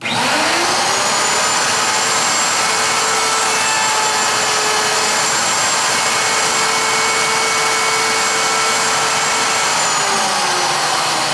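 Electric router motor, mounted tight in its base, running steadily with the bit cutting an edge: a loud, continuous high-pitched whine with a grinding cutting texture that holds evenly for about eleven seconds, alone without talk.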